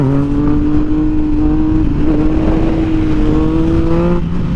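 A vehicle engine revs loudly and close while wheelies are practised, a sustained droning roar whose pitch wavers slightly up and down throughout, with no voices.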